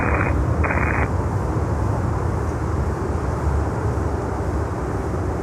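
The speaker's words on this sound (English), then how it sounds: "When you think you have seen everything, then China Airlines lands on 12." A China Airlines Cargo plane landing on runway 12: a loud, steady broadband jet roar rumbling throughout, heard at a distance with constant intensity and no voices, interrupted briefly at the start by two short tonal beeps.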